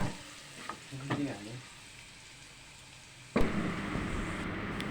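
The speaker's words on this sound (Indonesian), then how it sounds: "setelah selesai menggoreng ini saya tumis bawang putihnya" Garlic stir-fried in hot oil in a pan sizzles with a steady hiss, preceded by softer bursts of frying, then a sudden loud, dense sizzle as more food hits the pan, close up and without speech.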